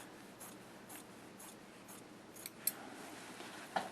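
Scissors cut through fabric for a homemade body pillow, giving a run of about eight soft, evenly spaced snips at a steady pace, with a couple of sharper clicks near the end, quiet and close with no talking.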